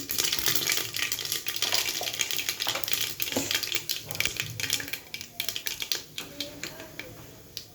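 Mustard seeds go into hot oil in a pan for vegetable pulao, giving a dense, close crackle of tiny pops. The popping runs steadily throughout and gradually thins toward the end while someone talks quietly.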